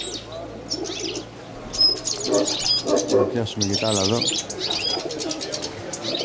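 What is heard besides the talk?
pigeons cooing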